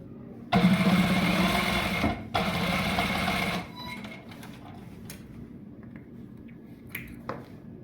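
A sewing machine runs in two loud bursts of rapid stitching along the sides of a trouser pocket, then falls to quieter handling noises and small clicks.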